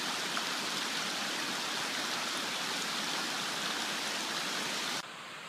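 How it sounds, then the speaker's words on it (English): Small creek running over the first stretch of a hiking trail on Sleeping Giant's Blue Trail in Connecticut, a dense, steady rushing wash of water, close and unbroken, cut off abruptly near the end. "The first maybe 20 feet of the trail is actually completely covered in a little creek"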